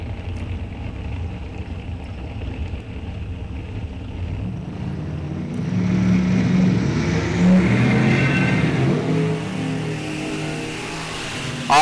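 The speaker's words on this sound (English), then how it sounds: "Jay Gray, 1038 right side in with the supercharged Camaro" A supercharged Camaro at a drag strip, its blower-driven engine rumbling loudly and then swelling into a heavier roar about midway as it launches, steady and close with no talk.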